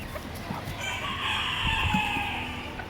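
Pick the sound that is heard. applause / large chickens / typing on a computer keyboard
large chickens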